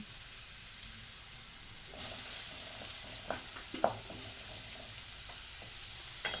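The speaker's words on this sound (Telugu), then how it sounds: "కొంచెం ముక్కలుగా కట్ చేసుకున్న ఉల్లిపాయలు వేయించుకుందాము ఇందులో పచ్చిమిర్చి కరివేపాకు వేసుకుందాము" Chopped onions, green chillies and curry leaves frying in oil for a mushroom and meal maker curry, with a soft hiss that turns to a louder sizzle, and occasional spatula scrapes and clicks up close, without speech.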